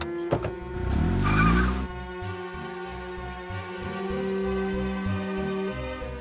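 A car pulls away fast under tense dramatic music: a sharp impact near the start, then a loud rising surge of engine and tire noise that fades into the steady score.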